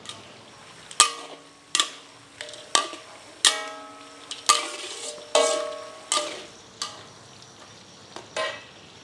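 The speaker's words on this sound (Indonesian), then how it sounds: "Pokoknya ini kita tumis-tumis sampai benar-benar aromanya keluar banget dan si bawang-bawangannya ini berubah menjadi kecoklatan." Shallots and garlic sauté in a pan for Hainanese chicken, a soft sizzle under repeated sharp clacks of a spatula scraping and striking the pan at irregular intervals, each ringing briefly.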